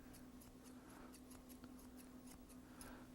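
Scissors snip repeatedly and crisply at close range while trimming a dog's coat at the elbows, blending the hair in line with its growth direction, with a steady low hum beneath.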